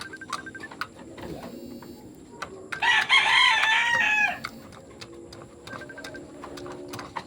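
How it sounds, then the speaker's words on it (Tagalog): Hens cluck and call in short bursts, with one drawn-out crow-like call in the middle, over faint farmyard background noise. "Yan o yung ating mga inahin."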